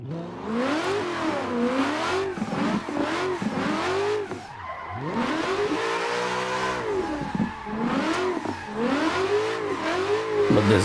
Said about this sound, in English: But this big old car drifts so nice.